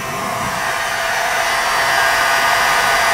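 A dental heat gun switched on at its low 350-degree setting blows a steady, even airflow hiss close by, like a hair dryer, holding constant with no speech throughout.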